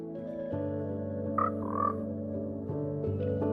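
A frog in a video game croaks over a steady tonal backdrop, a few distinct croaks standing out clearly in the middle, with no talking.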